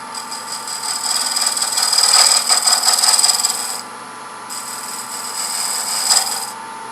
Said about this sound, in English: I'm going to go back and relieve this about 1 thread depth on the front here using a box scraper.